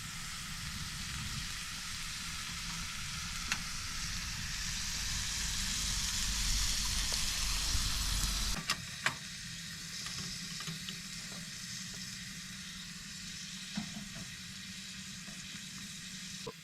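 A burger sizzles on a hot tent stove in a canvas tarp shelter, a steady close frying hiss that swells, then drops to a quieter crackle after a few sharp clicks and scrapes, with no one talking.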